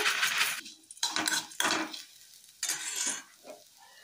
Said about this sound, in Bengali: তো এখানে ঘি গরম হয়ে গেছে, আমি এর মধ্যে সিমুইটা দিয়ে দিচ্ছি ভাজার জন্য।